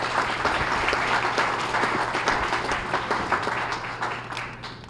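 An audience at a small business awards breakfast claps in a steady, moderately loud round, with individual hand claps audible over a low constant hum.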